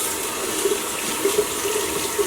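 Steady tap water runs continuously into a sink while a synthetic shaving brush is soaked, a close, even hiss with slight splashy fluctuations and no talk.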